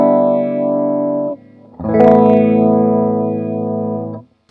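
Electric guitar chords through a Univibe pedal on its mod 1 setting throb with a deep, swirling pulsation; one chord fades, a brief pause follows, then another strum rings out with the same slow wobble.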